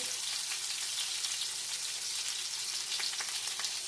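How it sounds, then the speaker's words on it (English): Lamb chops searing in a hot pan give off a continuous crackling sizzle, fairly quiet and unbroken, with scattered sharp pops spitting through near the end and no talking. "see now these are searing"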